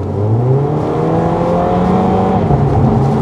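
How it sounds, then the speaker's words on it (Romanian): Aftermarket exhaust on a 2007 Audi TT 2.0 TFSI revs steadily and loud, engine tone rising and holding close by for the whole stretch with no talk over it. "Asta e o evacuare plăcută și la genul ăsta de mașină"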